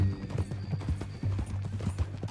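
Horse hooves clip-clop at a walk in Red Dead Redemption 2, a steady run of close, loud steps over a low background, with a brief whinny blended in.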